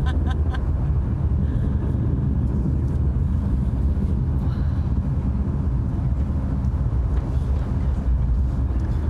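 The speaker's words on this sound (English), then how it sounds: "Look at that beautiful BE-3 engine in action." The BE-3 engine of a Blue Origin New Shepard rocket roars during launch, a loud, dense, continuous rumble that holds steady and unbroken throughout.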